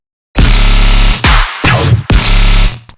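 Three heavy, distorted, unfiltered dubstep bass synth bursts with deep growling lows and gritty highs, loud and close, separated by brief pauses.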